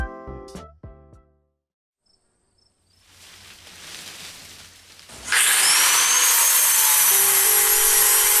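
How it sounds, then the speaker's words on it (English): Welds on a metal panel are ground down early in the morning, a loud sustained high-pitched grinding that starts abruptly after a few seconds of quieter clinks and hiss and carries on steadily to the end. "like grinding welds at 8 a.m."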